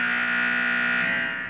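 Alert tones from the Emergency! TV show fire station, a single sustained electronic tone with a buzzy, harmonic-rich edge that holds steady and loud before cutting off abruptly, alone without any voices.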